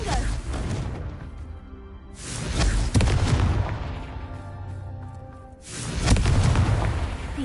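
Spell blasts from Hogwarts Legacy gameplay, a Confringo fire spell cast during a Merlin trial: three heavy booming bursts, at the start, near the three-second mark and near six seconds, each decaying into a rumbling tail, fairly loud and close.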